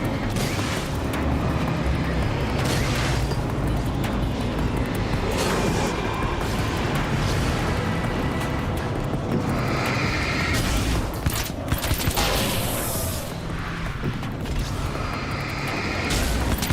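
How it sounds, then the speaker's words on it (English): Rapid mechanical nail gun fire in a video game, with bursts of clattering shots and booms over a continuous loud game mix across the whole stretch. "There should be more games with nail guns, I tell you."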